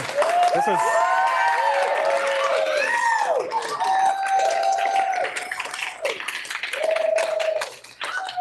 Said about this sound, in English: let's get a stronger applause for everyone